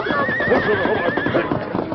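A horse neighs loudly in a radio drama sound effect, one long whinny with a wavering pitch lasting most of the moment, over a dense background of hoofbeats and commotion.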